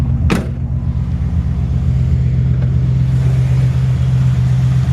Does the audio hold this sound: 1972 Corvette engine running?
yes